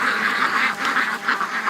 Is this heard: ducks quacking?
yes